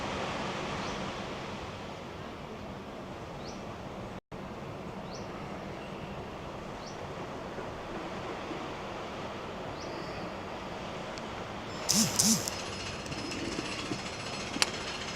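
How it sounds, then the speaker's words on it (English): Sea waves wash against rocks in a steady, broad roar that runs unbroken, with a few faint knocks and a brief clatter near the end and no one speaking. "Just listen to the sound of the sea."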